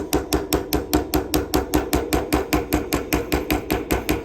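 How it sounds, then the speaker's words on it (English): Ball peen hammer striking down on a wire rivet, a fast even series of about twenty sharp metallic taps, close and alone. "I'm gonna use my ball peen hammer to start to squish this rivet in place"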